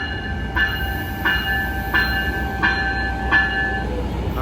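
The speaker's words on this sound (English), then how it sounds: "So this is Amtrak Capitol Corridor Train 525" Amtrak Capitol Corridor passenger train 525 pulls into Emeryville station on track 1, a low rumble carrying five evenly spaced ringing tonal pulses, fairly close, with no speech.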